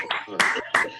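Sparse clapping from quiz participants during a virtual quiz night, a few uneven bursts of hands over a video call, thin and close, with background noise between claps.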